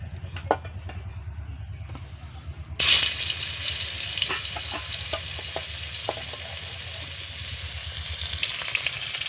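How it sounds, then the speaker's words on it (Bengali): Pangas fish frying in hot oil in a covered wok, a steady dense sizzle that jumps louder after a few seconds and keeps crackling close up, with a low hum underneath. "এই যে বন্ধুরা, আমি এখন মাছটা ভাজতে বসিয়ে দিয়েছি।"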